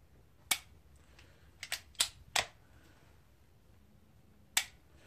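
A light striker spring snaps onto unfired primers of factory ammunition, producing about six sharp, dry clicks at uneven intervals in a quiet room, close up and faint.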